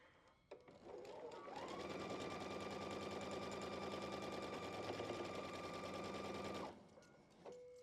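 A sewing machine stitches fabric quilt blocks in one continuous rapid run of about six seconds, a close, even mechanical whirring chatter that starts and stops abruptly, with quiet room sound before and after.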